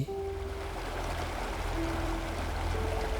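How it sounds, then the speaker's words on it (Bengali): Water seeps through a narrow gap in a concrete dam, a steady hushed trickling rush over a low continuous rumble, with no voices. "কংক্রিটের একটা সরু ফাঁক দিয়ে জল বেরোচ্ছে।"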